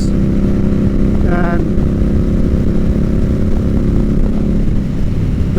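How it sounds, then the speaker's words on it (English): Steady, loud wind buffeting roars around a rider on a 2022 Indian Scout Bobber motorcycle, with the engine's low drone underneath throughout and a brief voice cutting in. "I know it's a little bit the wind noise"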